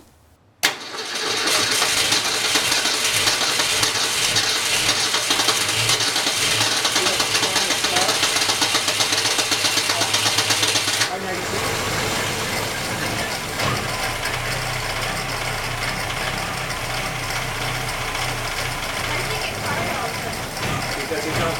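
A 1965 Ford Falcon engine, newly restored, cranks and catches, then runs loud and rough with an uneven idle that falters for a moment before settling into a rumbling run. Voices talk over the engine.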